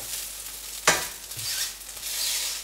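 A dosa sizzling faintly on a hot pan, with a brief scraping knock as it is flipped and a steady soft hiss continuing afterward.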